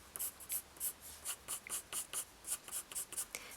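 A pencil scratches out cross-hatching on paper, with about a dozen quick, close, evenly rhythmic strokes, each a soft, bright scratch heard alone.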